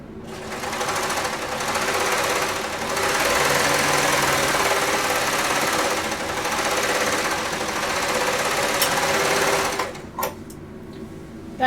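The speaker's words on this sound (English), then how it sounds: "There's something making a whole lot of noise outside. Oh, they're picking up the trash?" A curbside trash pickup truck working outside, a loud, continuous mechanical rumble and drone that holds steady for about ten seconds, then drops away with a few brief clunks.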